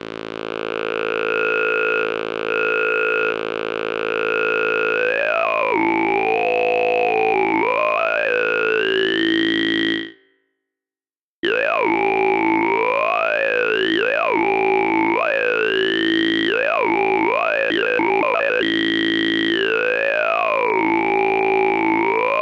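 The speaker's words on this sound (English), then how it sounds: "we start to get into the not so standard type of filters, like a vowel filter, which is a formant filter" A Buzz Zone synthesizer drone runs through a vowel-like formant filter whose bright resonant peaks swoop up and down in shifting vowel shapes, a short silent gap halfway, then more rapid sweeping alone.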